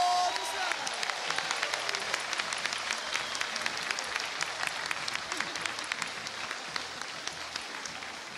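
An audience applauds an accordionist at a live music show, a dense, steady wash of clapping that holds at full strength for the whole stretch, with no voices over it.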